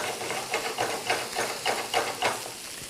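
Chicken kebab, a Bihari-style kebab, browns in a pan with a steady soft sizzle and hiss that swells in regular pulses. No voices are heard.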